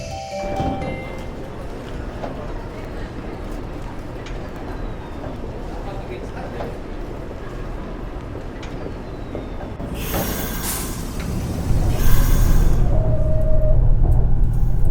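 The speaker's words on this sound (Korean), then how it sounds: "열차가 들어오고 있습니다." A train pulls into a station with a continuous rolling rumble, rising toward the end as a bright burst of hiss or wheel screech cuts in, while a voice talks over the noise.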